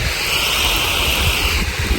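Strong wind buffets steadily against the microphone, a continuous rushing roar with low rumbling gusts and no voices.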